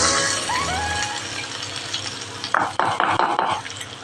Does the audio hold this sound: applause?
no